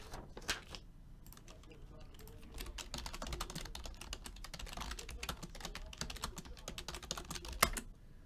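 Typing on a computer keyboard for a Google search, a run of quick close key clicks that speeds up into steady bursts, with faint speech-like sound mixed in.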